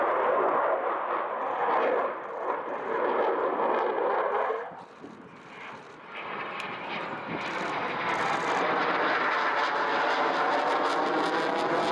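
A jet aircraft flies aerobatic manoeuvres at the Old Buckenham Air Show, its loud roaring engine fading and swelling as it passes overhead, heard alone without talk.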